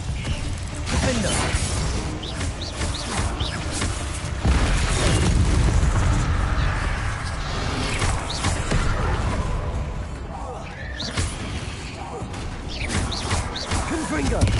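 Booming magical blast from a Confringo spell in the Hogwarts Legacy game, a loud rumbling burst amid continuous clattering mechanical game noise, with a voice talking over it.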